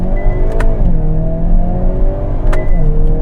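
A 2022 Hyundai Kona N with a 2.0 T-GDi engine and DCT gearbox accelerates hard in N mode with manual shifting, its loud engine note climbing steadily, punctuated by two quick gear changes.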